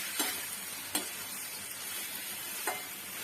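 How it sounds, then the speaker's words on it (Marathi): Tomato frying in oil for a village-style brinjal curry, a steady soft sizzle with three sharp spoon scrapes against the pan. "हा टॅमॅटो सुद्धा मी लगेच टाकून घेत आहे तो सुद्धा तेलामध्येच फ्राय होईल सर्व आपण एकजीव करून घेऊया"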